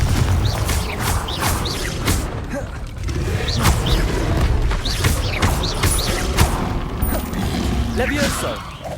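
Repeated fiery Confringo blast spells in Hogwarts Legacy, a run of heavy booming impacts and crackling bursts amid dense combat clatter and whooshes, loud and close, with voices and game effects layered over the noise throughout.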